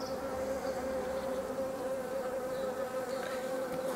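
Honeybees hum around an opened hive holding a small nucleus colony with an old, wingless queen. The buzzing is close, steady and continuous, a dense drone with a few individual bees passing nearby.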